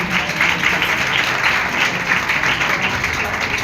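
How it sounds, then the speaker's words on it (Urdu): Loud applause from a church congregation during a testimony service, a dense continuous sound of many hands clapping with some voices mixed in. "سو آئے ہم خداوند کے لیے زوردار تالیاں بجائیں گے"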